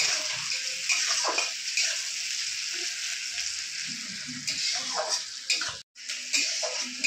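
Chopped onions frying in hot oil in a pan, a continuous close sizzle with brief stirring scrapes and one short break near the end.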